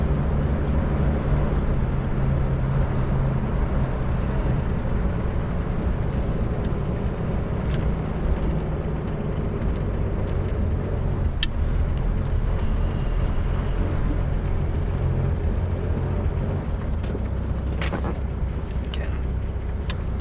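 A 1941 Lincoln car on the move gives a constant low engine and road rumble with wind buffeting, steady and fairly close throughout, with no clear break marking a gear change.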